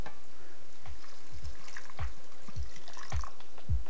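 Water is poured into a cooking pot of hot dog sauce in a series of soft, evenly spaced glugs and drips, quiet and close, with no voices.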